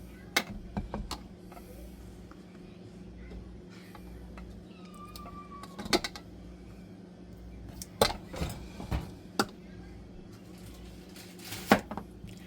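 Knife chopping fresh garden cucumbers into rounds for pickles, a string of sharp, separate cuts against a board. The strokes land close to the mic in an irregular rhythm over a quiet room hum.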